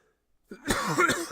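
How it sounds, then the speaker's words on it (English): A single harsh cough after a brief silence, close and fairly loud, trailing into a rough exhale. "I still haven't gotten over this fucking cough."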